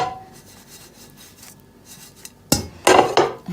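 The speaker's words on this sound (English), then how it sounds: "you can just kind of flick the pan around a bit" A pan flicked around on a stovetop while ingredients toast for a chicken herbal soup, giving quiet rubbing at first and then a burst of loud, close scraping and rattling toward the end.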